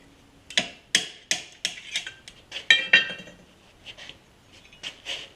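A hood pin receiver is tapped into a fiberglass panel on an Audi Quattro rally replica. About a dozen sharp, metallic taps and clinks come in quick succession, loud and close, with short pauses between small bursts.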